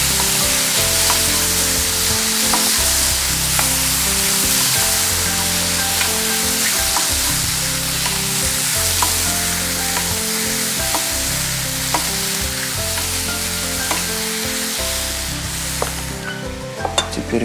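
Vegetables for an Indian vegetarian dish frying in a pan, a loud continuous sizzle with rhythmic scraping and clinking as the mixture is stirred, close up, no talk.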